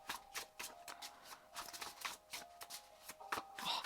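A tarot card deck is shuffled by hand, giving soft riffling flutters and light taps in quick irregular bursts, close and quiet.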